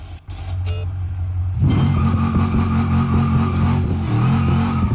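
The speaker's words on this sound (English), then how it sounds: "Oh, this car's loud." A loud car engine in the BeamNG.drive driving game idles low, then revs up sharply and holds a rough, harmonic-rich roar as the car accelerates and slides, alone without talk.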